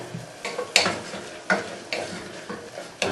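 Minced beef browns and sizzles gently in a pan over a low gas flame, with a utensil scraping and stirring in irregular strokes every half second or so, close up and with no talking.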